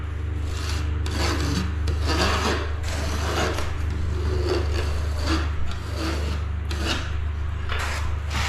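A hand scraper used for silicone waterproofing prep is scraped clean of residue in a series of repeated rasping strokes, close and fairly loud, with a steady low hum underneath.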